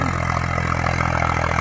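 An Eicher 333 tractor engine pulls an 11-tine plough through a field, a steady loud diesel throb with a rhythmic clattering pulse that stays constant and close throughout.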